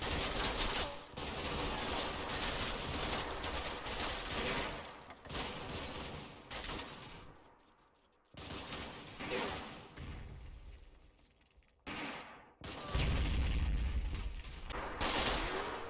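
Bren light machine gun bursts mixed with rifle fire in the Combat Mission video game, Monte Cassino battle, a dense ongoing fusillade of shots with brief quiet gaps and renewed volleys, quite loud throughout.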